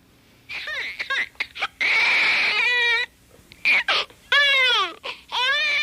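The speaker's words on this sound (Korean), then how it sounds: "울지 마 울지 마 우리 아기 예쁘지?" A small infant wails and squeals in rising, wavering cries, loud and close, broken by short gasps and bursts of high-pitched fussing.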